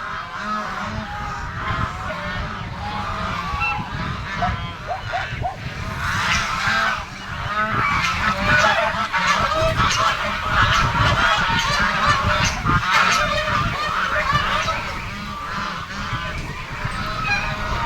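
Goose honking loudly and almost nonstop while being fed outdoors, with harsh, nasal calls overlapping into a busy chorus, close by and persisting throughout with steady background noise.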